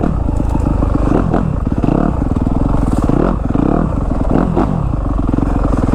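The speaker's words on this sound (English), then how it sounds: "the big 4-stroke definitely isn't as light and maneuverable as my 150 in the woods" A Yamaha YZ250F four-stroke dirt bike rides through woods, its engine loud and close with rapid revving surges, rises and drops as the rider works through trees, with clattering knocks mixed in.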